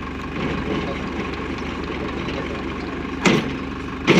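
A Farmtrac 6055 T20 tractor engine runs steadily at a close, even drone during a live PTO demonstration, with a couple of short mechanical clunks near the end.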